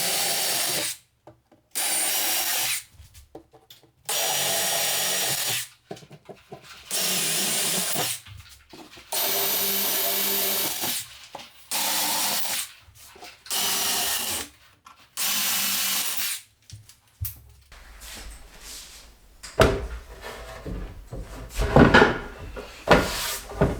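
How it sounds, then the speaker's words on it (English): A power drill bores holes through salvaged cabinet tops so they can be screwed down to a mobile home kitchen countertop, running in repeated short loud bursts separated by pauses, followed by quieter scraping and handling. "So what I'm going to do is drill holes in the tops, and we'll just screw right from this into the countertop."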